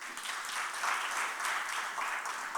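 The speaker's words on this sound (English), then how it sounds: "A big round of applause for Mr." Audience applause at a seminar on UAE corporate tax, a dense, steady wash of many hands clapping together for a speaker, fairly loud and continuous without voices.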